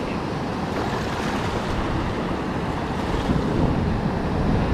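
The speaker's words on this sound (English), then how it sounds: "I just wish the waves would go away." Ocean surf washes steadily onto a wet-sand beach, a continuous loud roar of breaking waves with some wind buffeting the microphone and no voices.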